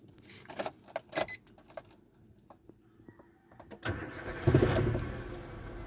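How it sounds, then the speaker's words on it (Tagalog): A Nissan Almera is cranked and starts after a few soft clicks and rattles, then catches into a louder, steady mid-pitched idle that carries to the end. No one talks. "Try mo natin paandarin."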